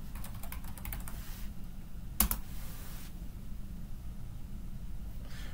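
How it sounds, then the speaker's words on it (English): Fingers type a search query on a computer keyboard, a quick close run of key clicks, then a pause and a sharp tap like the enter key, with faint room hiss and no speech. "In the search box for articles, we'll type in today's search"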